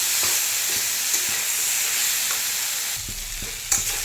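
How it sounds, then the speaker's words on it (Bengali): Steady hiss of food sautéing in a hot pan with a little chili powder added, occasional scraping stir knocks, continuous frying sizzle without speech. "অল্প আমি লঙ্কা গুঁড়ো দিয়ে দিয়েছি। ভালো করে এটাকে সাঁতলায় নেব।"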